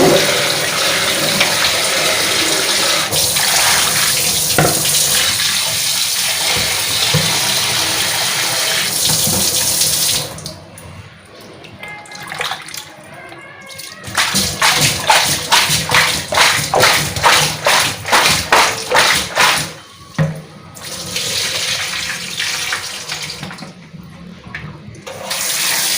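Tap water runs steadily into a basin while fish is washed, splashing loudly, then giving way to rhythmic sloshing and rubbing as the fish is scrubbed by hand, with no speech.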